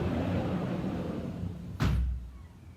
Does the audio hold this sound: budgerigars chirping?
no